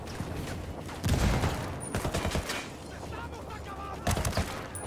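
Bursts of heavy gunfire from an Apache helicopter in Ghost Recon Wildlands, loud rattling volleys around the one- and four-second marks over continuous game noise, with a voice talking in between.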